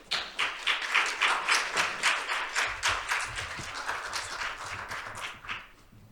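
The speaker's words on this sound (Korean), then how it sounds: "여러분 큰 박수로 맞아 주십시오." An audience at a Korean insurance forum applauds to welcome a professor to the podium, a steady patter of many hands clapping at moderate volume that thins and fades toward the end, with no talking.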